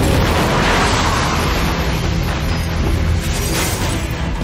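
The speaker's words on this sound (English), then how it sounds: "Experts believe the blast is caused by a smoke explosion." A smoke explosion tears through a building with a sustained loud blast and rumbling roar, debris crackling as windows shatter.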